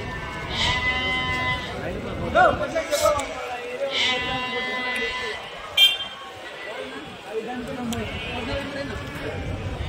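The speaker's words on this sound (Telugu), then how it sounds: "ఈడ కూడా మేకలు ఉన్నాయి" Goats at a livestock market bleat repeatedly, several wavering cries at moderate distance, with people talking throughout and some shuffling noise.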